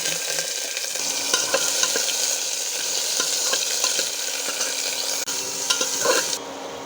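Chopped vegetables fry in a pan of hot oil with cumin and bay leaf, giving a steady close sizzle with scattered spoon stirs and scrapes throughout, fading slightly at the very end.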